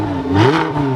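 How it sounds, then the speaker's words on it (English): An Audi R8 engine revs hard in a short, loud burst, pitch climbing then settling into a steady high drone, close by with no talk over it. "give us some revs"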